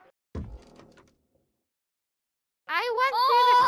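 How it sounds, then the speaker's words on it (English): Car door in a VR video game, a single quick clunk followed by a short sliding scrape, then silence before a person starts talking. "I went through the car door."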